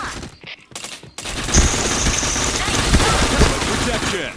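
Dense bursts of video game gunfire in a first-person shooter, rapid overlapping shots forming a continuous loud fusillade after a brief choppy opening.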